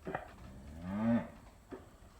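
A cow lets out one long, low moo nearby, with brief grunting calls just before and after, on a quiet, chilly morning at a farm with cattle penned in a barn.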